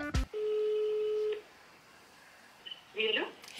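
Telephone in a hotel room giving one short ring and then a single long steady tone, followed by a quieter pause before brief clattering handset sounds.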